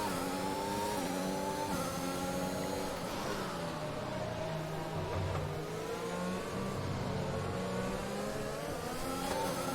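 A Formula 1 car engine in the F1 2021 racing game revs hard and climbs through the gears, its whine rising and dropping with shifts and settling into a lower drone, loud and continuous with no talk.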